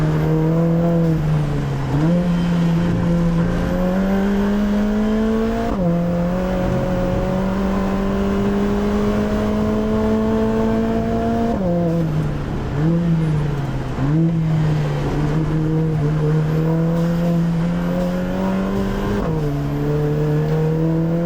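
A race car engine drones loudly through a lap on track, its pitch rising through the gears and dropping sharply under braking several times, close and continuous with no talking.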